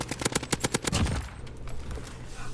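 An AN-94 assault rifle fires in the Warzone video game, a fast burst of about eight sharp shots in the first second, followed by a fainter rattle of more distant gunfire.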